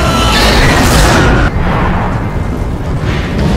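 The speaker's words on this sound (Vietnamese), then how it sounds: "Đột nhiên một chiếc máy bay xuyên qua bầu trời, bay qua trước mặt anh ấy rồi bị rơi xuống đất." Airplane crashing into the ground in a film scene from Knowing, a loud, roaring, explosive rumble that fills the sound, with a sharp break midway into continued heavy debris noise.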